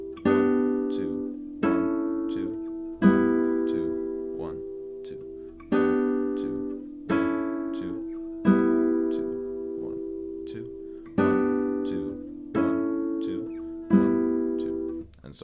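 Guitar chords from a practice piece strummed in a slow two-beat progression, about ten evenly spaced ringing chords that decay between strokes, played alone and close.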